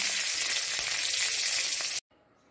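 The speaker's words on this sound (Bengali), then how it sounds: "7টা লঙ্কা, 2টো শুকনো লঙ্কা ভেজে নিচ্ছি।" Two dried red chillies frying in hot oil in a pan, a dense, even, close sizzle that stops abruptly after two seconds.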